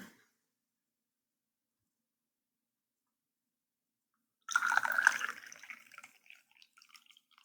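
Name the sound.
boiled hot water poured through a small funnel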